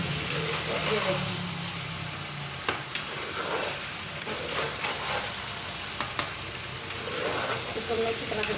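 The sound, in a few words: potatoes frying in a pan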